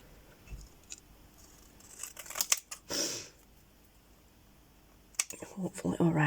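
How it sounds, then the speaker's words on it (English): Scissors snip through packaging material, a few short sharp cuts with light crinkling, while a person talks quietly in the background. "I was just going to cut out the bit that said do it yourself"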